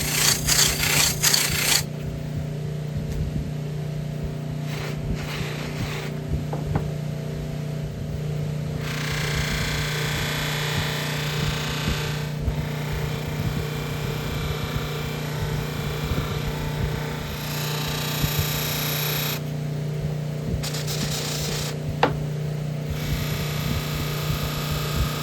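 Stainless steel trim is worked against a spinning buffing wheel, giving a continuous steady whirring hum with rubbing, scraping texture that swells and eases as the piece is pressed and moved, alone without talk.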